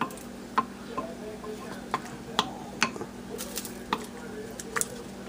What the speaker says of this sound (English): Now we're going to stir this around some more.